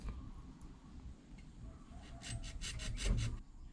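A homemade fishing rod is cut by hand with a quiet rasping, rubbing scrape that turns into a few quick back-and-forth sawing strokes near the end, close up and without talk.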